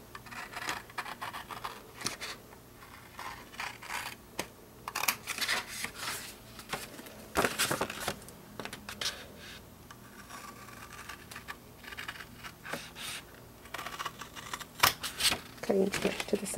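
Scissors cut paper for an expandable envelope, giving a series of close, crisp snips and rustling cuts in uneven bursts, with occasional paper handling noises between them.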